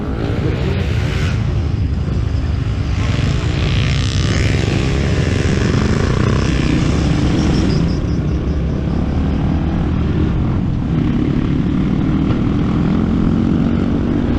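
Loud, continuous drone of a faulty Honda Win 100 motorcycle engine running unevenly, a steady rough buzz with shifting pitch and no talking.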